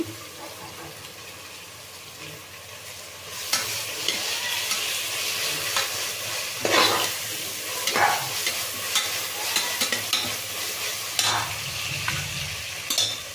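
Onion with coriander and mint leaves fries in oil in a pan for a breakfast rice bath, sizzling softly at first, then louder and busier with stirring scrapes and occasional sharp crackles, with no talk.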